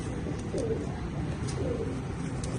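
Pigeons coo softly and repeatedly amid a steady background hiss. The birds are high-flying kabooter pigeons, including a black-faced one.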